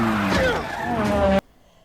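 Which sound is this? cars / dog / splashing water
cars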